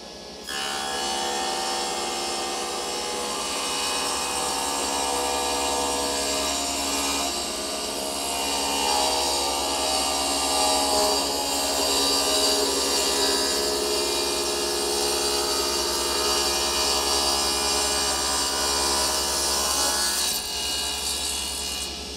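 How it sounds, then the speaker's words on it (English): A table saw set up as a jointer cuts wood stock, with plywood in the setup. It gives a loud, steady, high whine that holds for about twenty seconds, shifts slightly in tone as the blade bites, then winds down. "go ahead and put on our safety equipment and make our cut"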